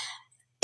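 A single sharp cough bursts out at the end after a brief breathy exhale and a moment of silence, close and loud.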